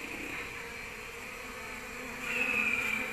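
A honeybee at a nest box makes a faint, steady buzzing drone, with a brief, slightly louder high-pitched piping burst near the end as one bee butts another.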